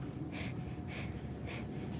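Pulsing belly breaths in a yoga session, three forceful nasal exhales spaced about half a second apart, breathy and close, over steady low background noise.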